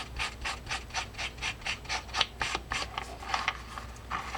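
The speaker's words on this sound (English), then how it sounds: "this is with a little bit of steel wool. It's a 4-0 steel wool." Extra fine 4-0 steel wool rubs back and forth over a part of an Ocean City Model 113 deep sea fishing reel, a steady rhythmic rasping of about twenty close strokes, fairly soft with no talking.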